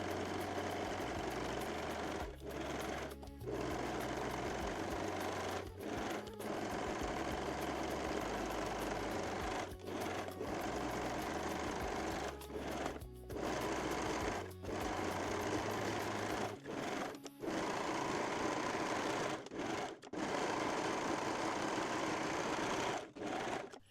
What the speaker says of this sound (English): Now we can sew all pieces together using serger or zigzag stitch.